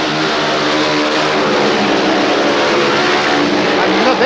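Speedway motorcycles at a 1977 World Team Final in Wroclaw racing at full throttle, a loud continuous engine roar with shifting pitch as the bikes pass, under faint commentary.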